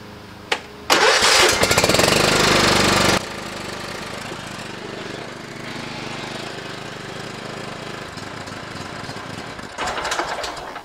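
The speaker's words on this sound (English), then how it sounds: "while I move this tractor around" A John Deere LT150 lawn tractor engine fires up with a sudden loud roar lasting a couple of seconds, then settles into a steadier, quieter running drone close by, swelling again briefly near the end; no one speaks.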